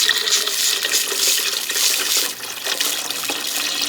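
Water is poured steadily into a cooking pot for collard greens, about three liters, as a continuous close hissing splash with no talk.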